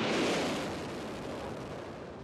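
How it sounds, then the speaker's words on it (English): A broad, steady roar of Space Shuttle Discovery's rocket engines at the STS-116 liftoff, loud and rumbling, slowly easing in intensity as it continues without any voices. "Ignition and liftoff of the Space Shuttle Discovery"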